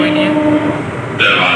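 Inside a nearly empty Delhi Metro Grey Line train on the move, a loud steady rumble and hum that shifts to a brighter hissing tone near the end, with a person speaking over it.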